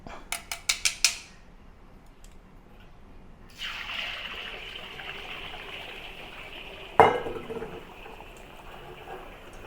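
Beaten egg poured into hot oil in a wok over medium heat, a sudden loud sizzle that settles into a steady crackling hiss, preceded by a few sharp utensil taps and a later clank.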